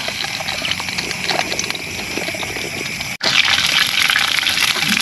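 Cooking oil hits a hot pan over an outdoor campfire, giving a loud, close, continuous sizzling hiss that cuts out for an instant and then returns even stronger.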